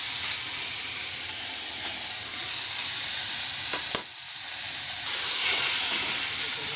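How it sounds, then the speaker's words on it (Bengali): Chicken with onion and chilli stir-fried in a covered pan, a loud continuous hiss and sizzle close up, with a brief clatter partway through and no speech over it. "এটাকে আমরা একটু কষিয়ে নেব, নেড়ে নেব।"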